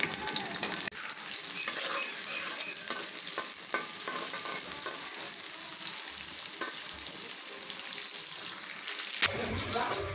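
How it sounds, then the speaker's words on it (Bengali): Onion and green chilli fry in hot oil in a wok, a continuous close sizzle with scattered scrapes and small clinks of a spoon against metal, and no clear talking. "কড়াইয়ের মধ্যে তেল দিয়ে দিলাম। এখন পেঁয়াজ, কাঁচামরিচ দিয়ে দিই।"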